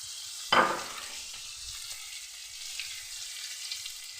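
Vegetables sizzle in rice bran oil in a home kitchen, with a sharp hiss as food meets the hot oil, then a steady soft frying crackle that continues alone.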